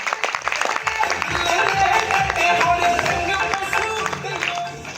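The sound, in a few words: audience applause for Safe Shop company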